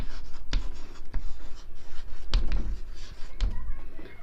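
Marker or chalk writing on a board during a grammar lesson, a series of short taps and strokes at a moderate level against low room noise, with no clear speech over it.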